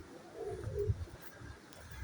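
Soft, low racing pigeon cooing repeats a few times in a gentle rolling rhythm, close by, over a steady background hiss, on a windy day.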